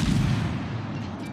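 A single heavy boom from destroyer deck guns in a naval warship battle game, a deep blast that decays quickly, alone without talk.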